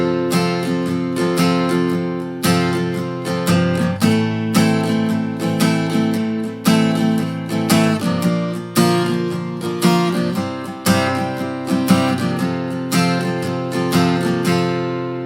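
Acoustic guitar strumming the intro chords of a song, a steady rhythmic pattern moving through several chord changes with no talking, close and even in level throughout.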